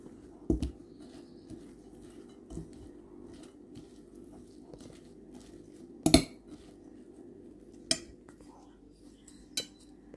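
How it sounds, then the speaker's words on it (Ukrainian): A cabbage salad with tomatoes and dill is stirred in a bowl, giving soft, sparse utensil clinks and light scrapes over a quiet background. "Перемішуємо."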